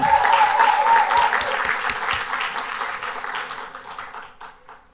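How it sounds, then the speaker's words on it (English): A crowd applauding, loud and dense at first, then slowly thinning out and fading as a few claps linger. "another round of applause for our winners"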